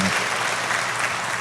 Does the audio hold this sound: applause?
yes